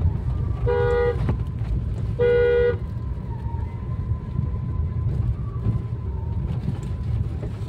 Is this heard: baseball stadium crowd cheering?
no